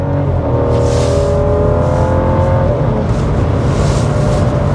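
A BMW 640i Grand Coupé with the N55 engine in sport plus mode accelerates from inside the cabin, a loud steady engine drone rising in pitch, briefly dipping as it shifts, then climbing again.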